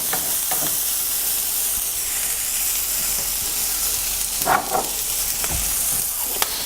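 Butter melts and sizzles in a pan for fiesta corn: a bright, steady frying hiss with occasional stirring scrapes, close and fairly loud, with no speech.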